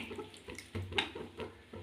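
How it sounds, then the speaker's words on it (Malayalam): Fish curry sloshing and swirling in a pot as coconut milk is stirred in, in several short bursts, with a spoon scraping and clinking against the sides. "തേങ്ങാപ്പാൽ ഒഴിച്ച് ഇനി നന്നായിട്ട് ഇതൊന്ന് കലക്കി ചേർത്ത് കൊടുക്കാം"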